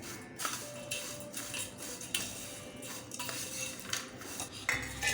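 A spoon tosses crisp fried potato shreds for a fasting snack, a close rustling crunch with repeated light metallic clinks against the pan in an uneven rhythm, no speech.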